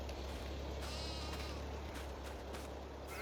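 Sheep bleat in the Farming Simulator 22 video game over a steady low engine-like hum, with a few bleats surfacing through the constant background and no talking.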